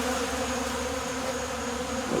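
Honey bees on a shed floor give off a close, steady buzzing drone with no pauses, faint and even throughout.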